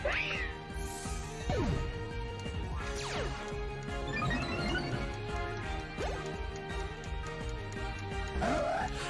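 The Pokémon Meowstic lets out cat-like meowing cries during a video game battle, with crashes and electronic effects layered over a steady game soundtrack, and no one speaking.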